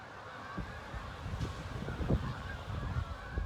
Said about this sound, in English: Check out all the geese.